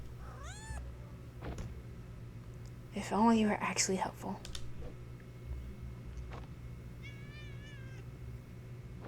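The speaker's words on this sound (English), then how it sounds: "Now I got the cat crying." A cat in a video game cries out in several plaintive meows: one short call at the start, a louder burst of crying around the middle, and a faint final meow, with a quiet voice speaking in between.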